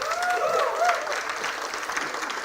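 A convocation crowd in Mumbai applauds three award winners with sustained, even clapping, while a voice briefly sounds over it at the start.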